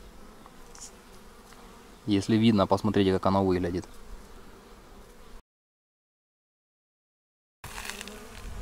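Steady insect buzzing drones throughout, with a person speaking briefly over it, then a sudden dead silence before the buzzing returns.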